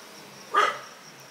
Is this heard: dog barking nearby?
yes